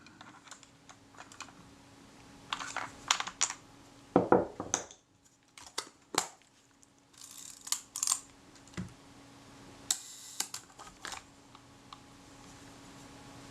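Small metal parts click and scrape as a ring is tightened on a Kodak Retina IIIc camera, with faint, close, irregular ticks and short rattling bursts spread across a quiet background.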